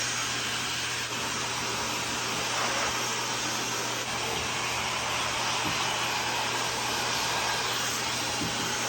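Hair dryer blowing on the roots of hair during a wash-day routine, a constant steady whoosh with a low hum underneath, close up and unbroken for several seconds with no talking.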